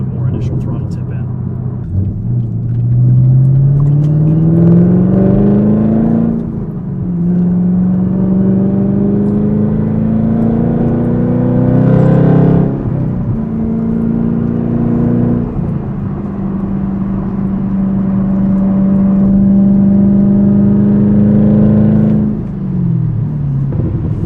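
Chevrolet Camaro ZL1 V8 engine pulling through repeated rising acceleration runs, a loud steady drone that climbs in pitch, drops at each shift and climbs again, heard from inside the car with occasional talk over it.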